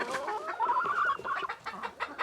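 Clucking from a huge rooster with two-inch spurs in a backyard chicken coop, a steady run of close, loud, throaty calls and squawks with no talk over them.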